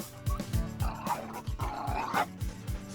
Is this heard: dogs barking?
yes